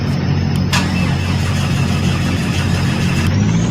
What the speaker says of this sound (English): we can see the engine starting right there